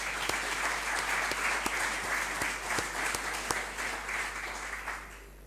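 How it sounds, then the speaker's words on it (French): Steady applause from an audience at the launch of a Phoenician studies chair at a library, dense clapping filling the room for several seconds before thinning slightly toward the end. "On peut applaudir aussi très fort"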